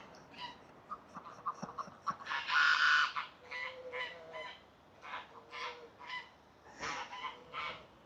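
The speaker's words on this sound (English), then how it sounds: "All right, geese, calm down." Canada geese honking, a close flock giving repeated loud honks with one sharp burst in the middle.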